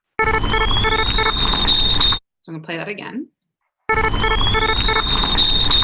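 A loud, rising tea-kettle-whistle-like alarm tone with pulsing beeps, signaling high patient temperature, plays twice, briefly broken by a person speaking between the two plays.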